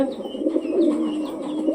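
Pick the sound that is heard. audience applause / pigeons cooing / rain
pigeons cooing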